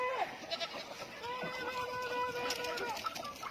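Goats and sheep bleat at a sheep farm in Nan province, Thailand, with drawn-out wavering calls overlapping in a steady noisy outdoor din and no talk.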